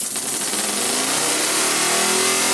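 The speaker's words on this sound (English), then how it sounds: "even though this 4-cylinder engine has way more torque, it doesn't have as much speed" A Lego air-powered 4-cylinder engine runs at a fast, continuous buzzing chatter. The noise is loud and close, with a hissing rush of air and a pitch that climbs slightly toward the end.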